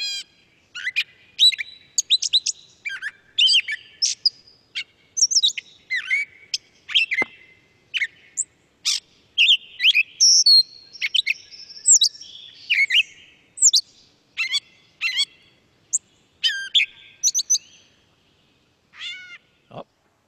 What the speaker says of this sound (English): Gray catbird.